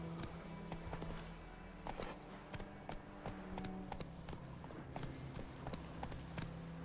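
Roach the horse in The Witcher 3 gallops with a quick, rhythmic clip-clop of hooves, close and fairly quiet, over faint background game sound.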